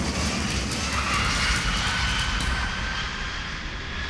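An airliner landing on a long-haul flight produces a steady, loud broadband engine roar and rushing wind noise that holds throughout and eases slightly toward the end.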